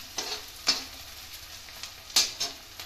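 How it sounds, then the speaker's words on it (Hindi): Onions being stirred and fried in a pan while making a spicy cabbage sabzi, heard as a soft steady sizzle with a few scraping stirs of the spoon, close and fairly quiet. "भूजेंगे जब तक हमारी प्याज हल्की भूरे रंग की नहीं हो जाती है"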